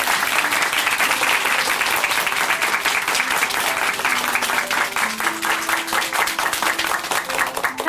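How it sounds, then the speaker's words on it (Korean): A church congregation at Chuncheon Hanmaum Church claps warmly after a testimony, with sustained, full applause and a faint sustained tone from a keyboard or organ underneath. "우리 귀한 간증 들려주신 이승미 자매님께 다시 한번 응원의 박수 보내드리겠습니다"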